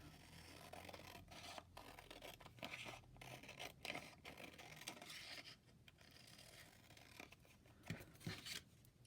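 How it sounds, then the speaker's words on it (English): Scissors cut around lightweight card for a handmade folder, giving quiet, close rasping snips and rubbing scrapes in an irregular rhythm with no talking. "Cut around it."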